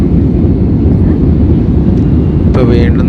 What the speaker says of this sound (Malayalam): നമ്മുടെ ഫ്ലൈറ്റ് ഇങ്ങനെ പൊന്തുകയാണ് കുറച്ചുകൂടി ഉയരത്തിലേക്ക് പോകുന്നുണ്ടെന്ന് തോന്നുന്നു